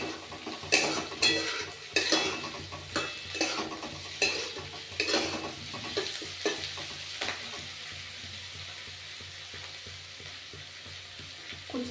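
Green chilies and chopped garlic fry in a pan, a soft steady sizzle under repeated scraping and clinking of a spatula stirring against the metal, close and fairly quiet.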